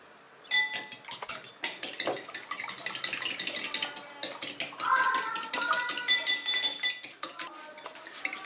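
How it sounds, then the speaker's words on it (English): An egg beaten with a squeeze of lemon in a bowl, utensil clinking and tapping rapidly against the sides in a steady busy rhythm, close and fairly loud throughout. "I'm just going to add a squeeze of lemon right in there, and then I'm going to really beat that nicely"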